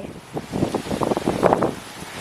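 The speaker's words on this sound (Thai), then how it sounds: "โอ้ฝนตกแล้ว" Rain falling on a home vegetable garden with tomato plants and corn, a steady diffuse patter of drops and wind-like hiss close to the microphone, with no voices.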